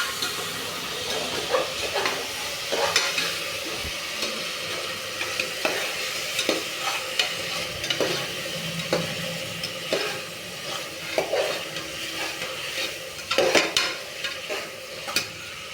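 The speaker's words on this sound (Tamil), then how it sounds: "தக்காளி நல்லா வதங்கிடுச்சுல" Tomato and onion sauté in a pan for a vegetable biryani, with a soft sizzle under frequent scraping and knocking strokes of a spoon stirring the mixture; no talk.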